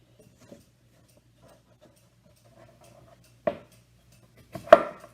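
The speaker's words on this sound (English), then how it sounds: "So I will continue chopping up zucchini." A knife chops zucchini into small dice on a cutting board, a few sparse, quiet taps spread out over a faint background hum, ending with two sharper, closer strikes.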